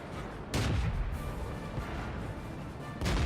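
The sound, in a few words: tank cannon shot from World of Tanks video game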